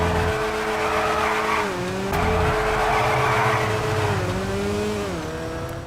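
A Lada Rune Cheburek in GTA 5 drifts with its engine droning and tires squealing in long sustained skids, the engine pitch wavering as the slide is held, loud and continuous.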